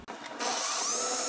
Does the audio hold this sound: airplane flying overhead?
no